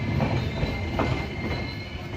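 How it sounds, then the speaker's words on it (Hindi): A passenger train pulls into Ramnagar station in India after a 647 km run, giving a steady rolling rumble with faint wheel clatter, close and continuous throughout. "647 किलोमीटर का डिस्टेंस कवर करके हमारी ट्रेन आ चुकी है संत हृदय रामनगर स्टेशन पे"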